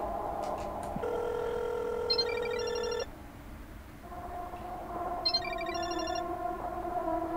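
A phone call rings out in the game Parasocial while dialing Asuka: steady electronic ringback tones with two bursts of warbling, chirping ring pulses, heard alone and fairly loud.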